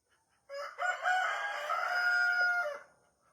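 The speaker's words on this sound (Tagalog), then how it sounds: "Ayan na yung mga manok." A rooster crows once in a long, loud, close cock-a-doodle-doo lasting a couple of seconds, standing alone against near silence.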